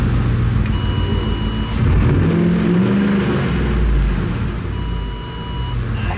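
A 1979 Ford F-350 with a custom exhaust revs up, the deep engine note swelling and falling once over a steady low rumble nearby, with no talking.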